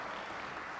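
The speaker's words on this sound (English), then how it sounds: "I'm not trying to take your applause away from you." Luncheon audience applauding at a Texas Tech Red Raider Club kickoff event, a steady wash of many hands clapping at moderate distance, even and sustained throughout the short stretch with no voices over it.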